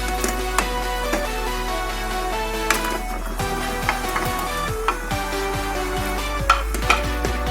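Paneer is stirred into boiling sugar syrup in a pan, with a constant low hum under repeated scraping and clinking strokes of a spoon and a soft bubbling sizzle.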